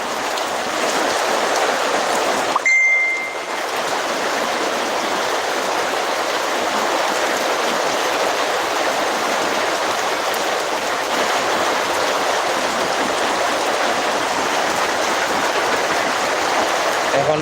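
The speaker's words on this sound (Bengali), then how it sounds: "কী পরিমাণে বৃষ্টি হইতেছে প্রচুর বৃষ্টি হইতেছে" Heavy rain pours down in Madhabpur, Habiganj, Bangladesh, a loud, dense, unbroken hiss that runs the whole time, dipping only briefly near the start.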